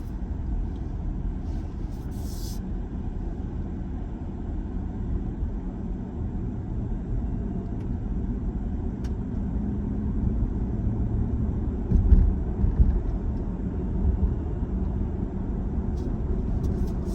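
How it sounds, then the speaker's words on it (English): Bridgestone Dueler A/T Revo 3 all-terrain tires rolling at about 45 mph, a steady low roar of road noise heard from inside the vehicle, continuous and fairly loud with a slight swell near the end. "just test the tires here for quietness and ride quality"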